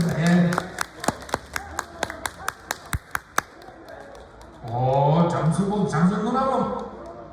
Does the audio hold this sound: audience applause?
yes